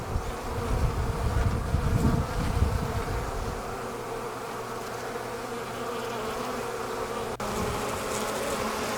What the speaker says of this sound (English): I'll just let you sit and watch these bees for a minute.